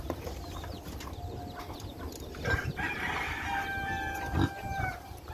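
Roosters crow in the background amid clucking fowl and farmyard noise at a small pig farm, with a couple of drawn-out crows standing out at moderate distance.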